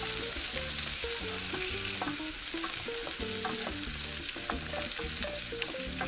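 Succotash in bacon fat is stirred in a pan. A constant sizzle runs through the clip, broken by repeated scraping and clinking of the utensil against the pan in an irregular rhythm.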